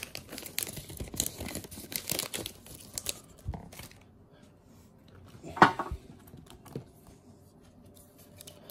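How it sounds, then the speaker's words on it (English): Pokémon trading cards being gathered and put away: soft rustling, crinkling and light tapping of cards and packaging, busier at first and then sparser, with a few sharper clicks. "Let me just put these cards away, make sure everything is good."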